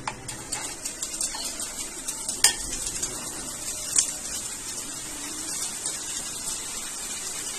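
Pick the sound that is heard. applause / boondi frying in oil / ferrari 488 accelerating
boondi frying in oil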